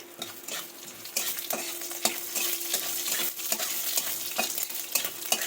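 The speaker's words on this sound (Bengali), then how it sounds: "সর্ষে দিয়ে দিলাম দিয়ে এটা বেশ সুন্দর করে ভাজা ভাজা হবে" Mustard seeds sizzle and crackle in hot oil while a spoon stirs them, with steady frying noise and irregular scraping strokes close up, no voices.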